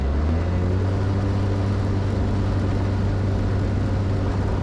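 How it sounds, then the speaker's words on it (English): A Jabiru light aircraft rolls down runway 22 for takeoff. A steady, loud engine drone holds throughout with a strong low hum, and no voices are heard. "Traffic Jabiru 7315 is rolling runway 22."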